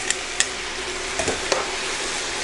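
Steady sizzling of sauce sautéing in a hot pan on a high stove, with a few sharp clicks and scrapes of stirring on top.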